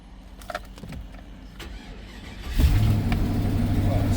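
Used car being flipped for profit cranks and starts, settling into a steady idle with a loud low rumble after a few seconds of quieter clicks and hum.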